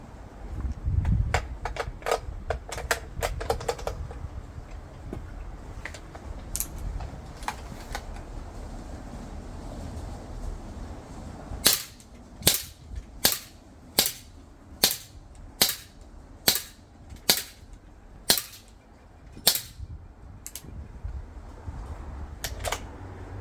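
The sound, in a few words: CO2 4.5 mm L1A1 SLR replica air rifle shots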